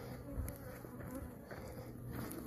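Honey bees buzz faintly and continuously at a hive, a soft hum with a few brief closer passes drifting in and out, and no talking.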